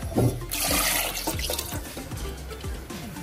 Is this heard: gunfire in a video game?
no